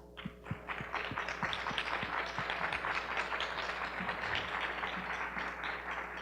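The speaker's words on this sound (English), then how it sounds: "give yourselves a round of applause" An audience of young women applauding, a busy patter of many hands clapping at moderate distance, rising quickly and then holding steady, with a few sharper individual claps standing out near the start.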